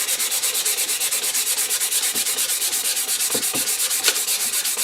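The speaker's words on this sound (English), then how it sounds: "you wet your sandpaper, and you start sanding" Sandpaper is worked by hand over wet cast aluminum, soaked with soapy water, in quick, even back-and-forth strokes, a close, steady rhythmic rasp with no talking.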